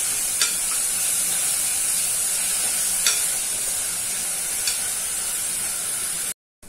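Onions fry in a pan over a medium gas flame, a steady close sizzle and hiss with a few sharp stirring scrapes, then sudden silence at the very end.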